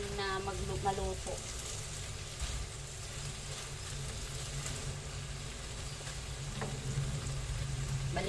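Eggplant and ground meat frying together in a pan, a steady close sizzle running throughout, with brief faint voice-like sounds near the start.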